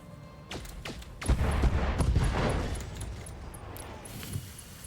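Video game gunfire aimed at several enemies: a handful of sharp cracking shots in quick irregular bursts, then a louder rumbling stretch in the middle and a few scattered rattles trailing off, with no talking.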